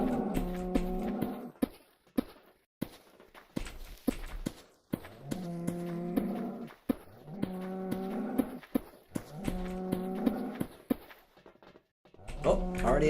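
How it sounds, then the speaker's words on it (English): Blocky cows in the VoxeLibre game moo repeatedly, four or five long, tonal lowing calls spaced a few seconds apart, moderately close, with soft footstep-like taps between them. "the cows in the background"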